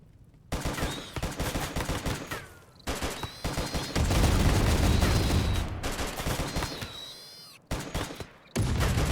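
Rifle fire from a squad in RimWorld's infestation battle, dense overlapping volleys of shots crackling almost continuously with brief pauses, loud and close, with no talking.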